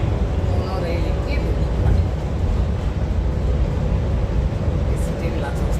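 A monorail train rides through Kuala Lumpur city with a continuous low rumbling hum inside the car, steady throughout, and a voice talking over it.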